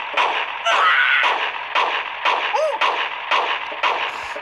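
A pistol fires in the Kick the Buddy video game: a rapid, evenly spaced string of about eight sharp, punchy shots, loud and close, with a brief synthetic tone sounding between them.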